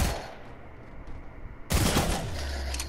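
Rapid P90 submachine gun fire in a video game, a loud dense burst that erupts midway after a quieter stretch and carries on to the end.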